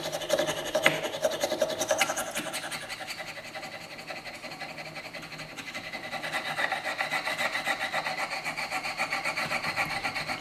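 A knife being sharpened freehand on abrasive tape gives a steady, continuous scraping and rubbing with a slight rhythmic pulse that runs the whole time, close and moderately loud, with no talking.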